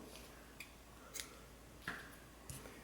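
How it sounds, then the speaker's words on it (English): Scissors snip through yarn while finishing a crocheted amigurumi fox, giving a few faint, separate crisp cuts spaced about half a second apart in a quiet room. "cut a long yarn tail for sewing"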